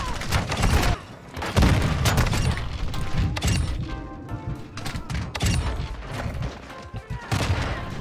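Bryson 800 shotgun blasts in Modern Warfare 2 on the Shipment map, loud repeated booming shots with mechanical pump and reload clatter, dense and close throughout with little pause.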